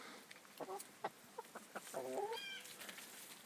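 Backyard chickens cluck around a big winter compost heap, making several short, moderately close clucks and calls at an irregular pace over quiet farmyard background.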